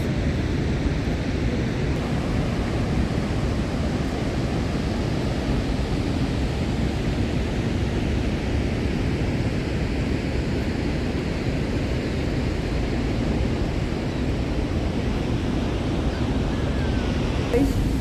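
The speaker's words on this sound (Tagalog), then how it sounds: "Yan, Niagara Falls." Steady, loud roar of Niagara Falls, a broad unbroken rush of water with wind buffeting the microphone, continuous throughout with no voices.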